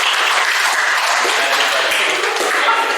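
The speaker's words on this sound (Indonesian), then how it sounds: "Tepuk tangan dulu untuk kelompok Alif." Students in a classroom presentation session applaud a presenting group, giving dense, lively clapping that stays close and loud from start to finish, with faint voices mixed underneath.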